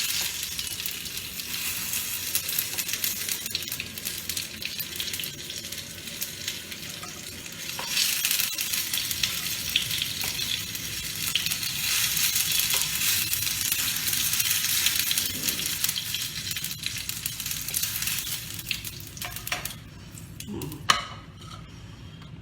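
Garlic fries in oil in a pan for a momo chili chutney, a steady dense sizzle running throughout with occasional stirring scrapes and a sharper clatter near the end, no voices over it.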